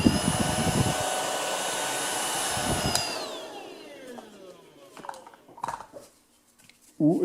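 A Tineco Pure One S11 cordless vacuum cleaner runs loudly with a high motor whine, then winds down and stops, followed by a few soft handling knocks and clicks.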